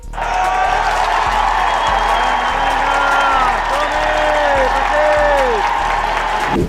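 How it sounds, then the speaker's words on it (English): Football stadium crowd roaring as Messi warms up before coming on, a dense, loud, sustained wash of cheering and clapping with some whistles and shouts rising through it. "as soon as the crowd realized Messi was about to come on, well, they went nuts."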